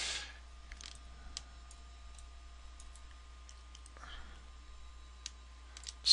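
Faint, sparse computer mouse clicks in a quiet room, a few quick clicks including a double click near the end, over a low steady electrical hum.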